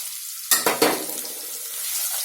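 Potatoes and green chillies go into a hot pan of browning onions, setting off a sudden sharp burst of sizzling and a few stirring clatters, then an even crackle that carries on close by.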